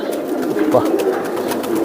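Pigeons cooing at a large farm housing some 300 pairs of Kaldam pigeons, soft repeated coos and wing flutters close by, mixed with someone talking over them.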